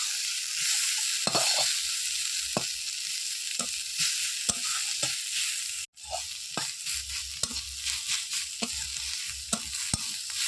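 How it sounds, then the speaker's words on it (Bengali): Shrimp heads fry in a pan with green chili, whole garlic and chopped onion, a steady sizzle running throughout while a utensil stirs and scrapes with sharp, irregular clicks and knocks. "চিংড়ি মাছ ভালো করে ভাজা হয়ে গেছে"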